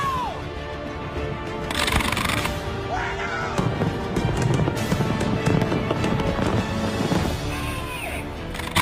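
New Year's Eve fireworks launched from a barge boom and crackle in near-continuous close bursts, with whistling rises and dense explosions under occasional voices.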